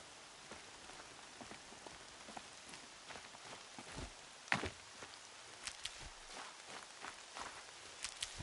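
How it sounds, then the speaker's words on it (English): Steady rain patters on a surface all around in the video game Horizon Zero Dawn, with occasional heavier drops and footstep-like crunches, no talking. "More rain. My boots will get damp."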